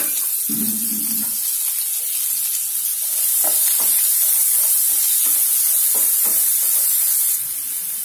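Chopped onion sautés in a pan for rava uppuma, giving a steady hissing sizzle close by, broken by a few stirring knocks and scrapes.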